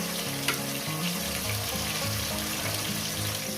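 Ginger and garlic frying in hot oil for a thin rohu fish curry: a close, steady sizzle and crackle runs throughout with no talking.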